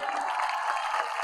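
Steady applause from a large crowd at a political rally in Karachi, a dense continuous wash of clapping heard from a distance, moderately loud with no break.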